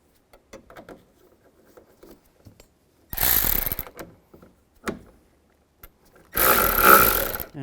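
A ratchet snugs down the nuts on a Nissan Xterra rear view mirror, giving two close bursts of rapid clicking separated by quiet pauses and a few faint handling taps.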